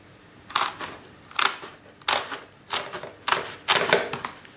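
Wiss tin snips trimming a carbon fibre component, several sharp crunching snips in an uneven rhythm, close and crisp, each cut a short burst with quiet gaps between.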